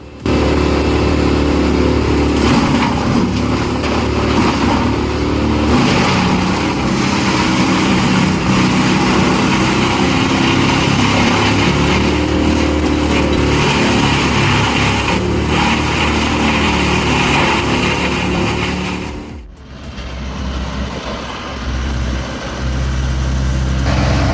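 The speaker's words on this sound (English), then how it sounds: "That's no lawnmower. It's a Carlton stump grinder." A Carlton stump grinder's loud, steady engine roars continuously with a harsh grinding texture as it chews through a stump, then briefly dips before returning at full power.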